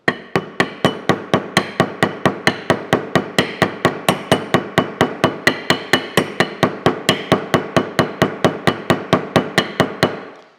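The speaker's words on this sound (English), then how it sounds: "now I'm just going to take a hammer and just kind of peen that back over" Steady series of about forty sharp, evenly spaced hammer blows peening a locking tab over on a Case steam engine governor's spool valve stem, loud and close, metallic strikes with no voices.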